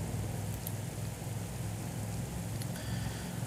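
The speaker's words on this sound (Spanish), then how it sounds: "nos está lloviendo en pleno junio" Rain falling during a stage in the cycling game Pro Cycling Manager 2022, a dense, steady hiss of downpour with a low rumbling bed underneath, continuous and fairly loud throughout.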